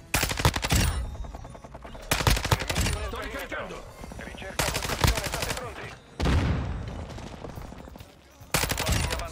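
Bursts of MP5 submachine-gun fire in a video game, several rapid volleys separated by short pauses, loud and close, with a voice talking quietly between bursts.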